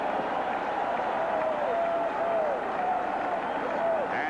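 A dense, steady roar from the stadium crowd at the 1985 Fiesta Bowl college football game, held as a continuous wash beneath the voice of a play-by-play commentator.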